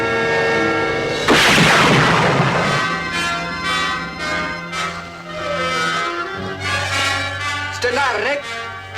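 Gunfire rings out in a tense scene from an old television drama: a loud close blast with a long rumbling decay, then further sharp reports over a sustained tone, with someone speaking among the shots.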